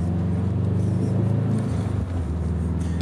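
A misfiring car engine idles loud and rough like a race car, a steady uneven low rumble holding close and constant throughout with no voices.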